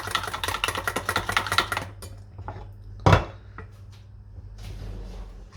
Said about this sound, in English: Okay, I got 2 teaspoons of mustard, I got 1 egg yolk. We mix this nicely.